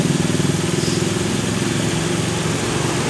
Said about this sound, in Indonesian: Mesin masih hidup, ya kan?